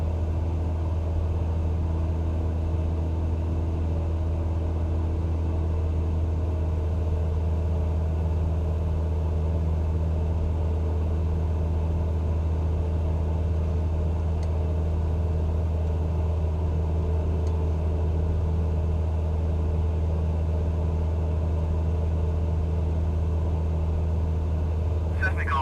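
A Cessna climbs after takeoff in Microsoft Flight Simulator 2020, its engine a steady, loud droning hum that holds constant throughout, with a voice speaking over it.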